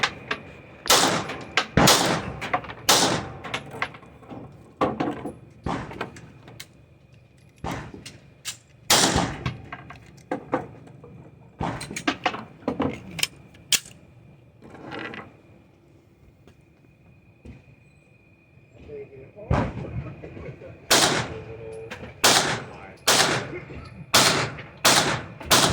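Pistol shots from a CZ P10F fitted with a Holosun 407K red dot at an outdoor range, fired at a 20-yard target: loud sharp reports in irregular clusters, a quieter lull midway, then another rapid string.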